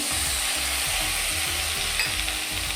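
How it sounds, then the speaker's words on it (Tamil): Onions and tomatoes sizzle steadily in a pan for bread upma, with a spatula scraping and stirring in a regular rhythm. Close and continuous, with no talking. "இப்போ நல்லா வதங்கட்டும்."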